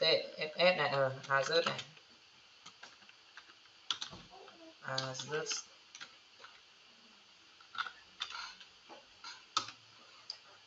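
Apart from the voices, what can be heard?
typing on a computer keyboard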